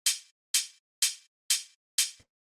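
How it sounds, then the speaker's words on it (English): Tech house hi-hat played alone, five crisp bright hits spaced evenly about half a second apart, each with a short airy decay and the last ending in a faint low thump. "So then the next thing I have here is this hi-hat"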